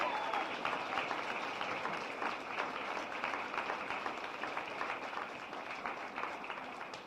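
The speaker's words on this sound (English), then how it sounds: "Can we just give them all like a huge round of applause because they're awesome?" Audience applause for the helpers at a Middle Women Project 2014 event, a dense, steady round of many hands clapping that holds throughout at moderate loudness.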